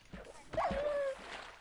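A dog whimpers briefly in the Minecraft video game, a short high whine lasting about half a second, with a voice talking around it.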